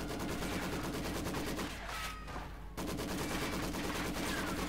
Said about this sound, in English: Falsco is being suppressed by the Maxim